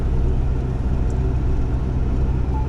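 Steady low rumble of a vehicle driving along Polish roads, heard from inside as continuous loud road and engine noise with no talking.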